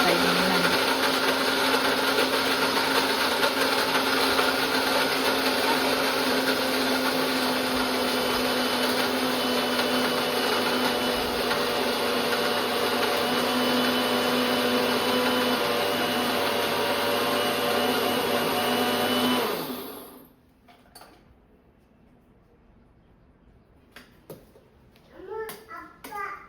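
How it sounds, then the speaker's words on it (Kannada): A mixer grinder runs steadily and loudly for about twenty seconds, finely grinding a small batch of homemade protein powder, then cuts off abruptly, leaving near silence with a few faint clicks and handling noises. "ಸ್ವಲ್ಪನೇ ಹಾಕೊಂಡು ಫುಲ್ಲು ನೈಸಾಗಿ ಗ್ರೈಂಡ್ ಮಾಡ್ಕೊಳ್ತಾ ಇದ್ದೀನಿ ನಾನು"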